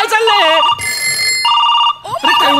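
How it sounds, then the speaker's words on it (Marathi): A telephone rings in short repeated bursts during a Marathi comedy sketch, and people talk loudly before and between the rings. "एवढे फोन का वाजतायत."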